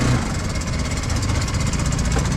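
An ATV engine runs loud and steady at a rough idle, a continuous close mechanical drone with a throbbing rumble that holds for the whole stretch.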